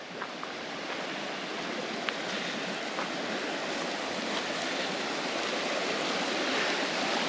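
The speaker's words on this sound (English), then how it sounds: "This campsite comes with the creek right beside it." A creek flows beside a campsite, giving a continuous broadband rush of running water that holds at a steady, moderate level throughout, with no voices.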